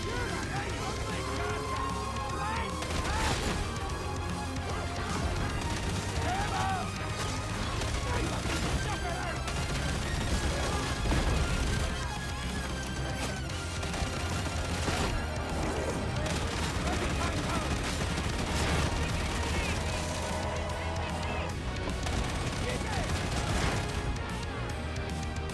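Gunfire in Warhammer 40,000: Darktide, dense repeated shots and crashing impacts over loud game noise, with a voice talking throughout.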